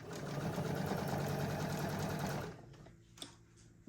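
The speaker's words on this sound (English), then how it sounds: "I set my machine to stop the needle down, because then I'll get a more consistent seam" A home sewing machine runs steadily for about two and a half seconds, stitching binding onto a bulky quilt, then stops, leaving a quiet room with a brief click.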